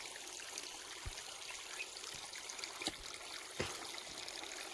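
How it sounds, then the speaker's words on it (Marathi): Water streams steadily from the outlet of a 5 HP Sadbhav solar pump outdoors under cloudy skies, a continuous rushing hiss broken by a few sharp clicks. "तिथून पाणी मारत आहे"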